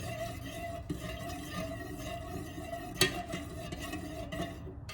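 A utensil stirs melted strawberry-and-cream scented candle wax in a container with a soft, continuous swishing scrape and one sharp clink partway through.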